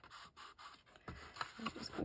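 Soft scraping and rubbing as a bone folder presses glued paper flat for a children's on-the-go book, a series of short strokes that grow a little louder toward the end.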